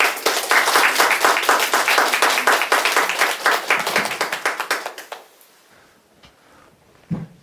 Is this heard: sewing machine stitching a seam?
no